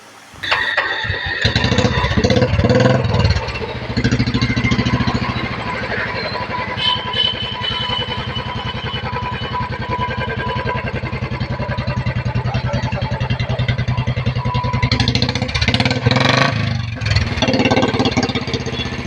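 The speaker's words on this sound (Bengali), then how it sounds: "গাড়িটাকে আপনাদেরকে স্টার দিয়ে দেখানো হবে দেখতে থাকুন গাড়িটার আওয়াজটাও বুঝে নেবেন" A Royal Enfield Bullet motorcycle, a second-hand bike, cranks into life and then settles into a steady, loud thumping idle that runs near and continuous for most of the stretch, with a brief burst of extra roughness toward the end.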